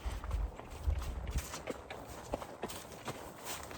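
Horse hooves clopping at a walk while ridden outdoors, irregular thuds close by with wind and rustling around them.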